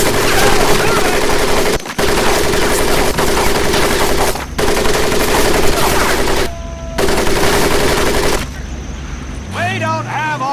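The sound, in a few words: machine gun fire over Marines' mud pit, Medal of Honor Pacific Assault video game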